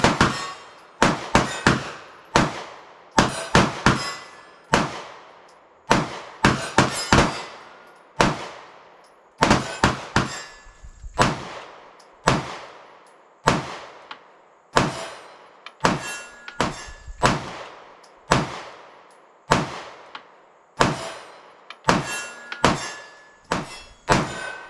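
Staccato CS and Grisan Brat pistols fire in sharp, loud reports, single shots and quick pairs spaced across an outdoor range session, each crack decaying quickly.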